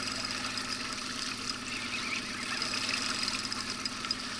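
A fishing boat's outboard motor runs at slow speed on a river while fishing for lenok and taimen, giving a steady, continuous mid-pitched engine hum with water noise and no talk.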